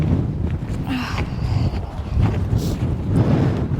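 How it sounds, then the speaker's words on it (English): Gusty wind buffets the microphone outdoors on a cold day at a goat barn, a steady low rumble rising and falling throughout with faint rustling on top. "It's windy."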